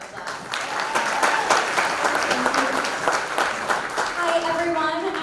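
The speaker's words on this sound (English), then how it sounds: "Let's give her a round of applause." A pageant audience claps in a steady, full round of applause that lasts several seconds, with a few voices and cheers mixed into the clapping.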